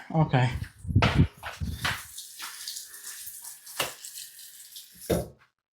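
Spilled water splashes and runs while a fish room is being built, with loud bursts of gushing and dripping near the mic, broken by brief pauses, and someone talking over it.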